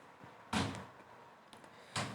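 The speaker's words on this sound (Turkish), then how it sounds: "burada görüyorsunuz rüzgardan kapı takır diyor" A door rattles in the wind in an equipment shop, giving a few loud irregular bangs and knocks spaced apart over quiet background, with no talking.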